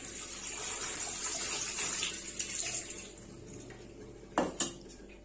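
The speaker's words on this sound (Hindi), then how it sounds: "सारा पानी गिरा दिया इसमें का" Cold water pours out of a pot of boiled macaroni, a steady splashing stream that fades out, followed by two sharp clanks of the pot.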